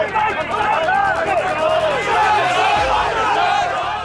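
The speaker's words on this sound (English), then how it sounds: "The verbal stuff you're hearing is when a broker comes into the crowd and presents an order" Traders and brokers crowded on a stock exchange floor, loud overlapping shouts and chatter from many nearby voices, continuous and busy throughout.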